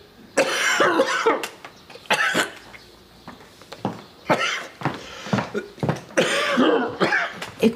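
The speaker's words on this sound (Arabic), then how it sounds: "كحة دي" A man, a smoker, coughs in a run of harsh, loud coughing fits, several bursts separated by short gaps, close to the listener in a quiet indoor room.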